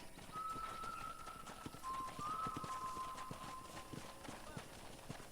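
Horse hooves clip-clopping at a steady trot in the Red Dead Redemption western video game, faint rhythmic hoofbeats running throughout with a whistled tone and a voice in the background.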